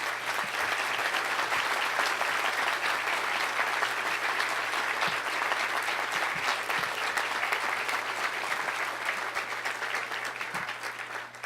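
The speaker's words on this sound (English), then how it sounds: "we honor them this morning with a nice round of applause" Sustained audience applause at a groundbreaking ceremony for the U.S. Marshals Museum, honoring Native tribal law enforcement officers; dense, even clapping from a large crowd holds steady throughout and tapers slightly at the end.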